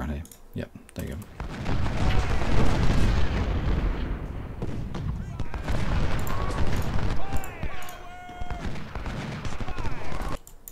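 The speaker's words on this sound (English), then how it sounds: "There's cannons around here." Cannon artillery fire in the Civil War strategy game Ultimate General: Civil War, steady rumbling booms and volleys rolling on throughout the battle under a busy din, with a person talking over parts of it.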